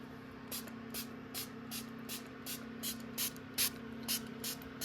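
A hand spray bottle mists water onto eggs inside an incubator, about a dozen short hissing bursts at a steady pace over a constant low motor hum.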